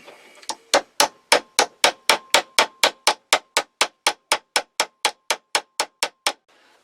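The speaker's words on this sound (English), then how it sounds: "carefully tap along here. Now of course it's brass, so it's softer, and it's really, it's able to get a nice peen work look there." Hammer peening brass fittings on a leather dog collar: about twenty-three crisp, evenly spaced metallic taps in a steady rhythm, close and fairly loud, with no voices.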